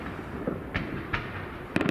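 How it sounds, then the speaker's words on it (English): Fireworks display seen through leafy trees, a few separate sharp pops and crackling bursts at a distance over a quiet outdoor background, with a denser crackle near the end. "it's going to be a bit awkward to see the fireworks until the big ones get up there"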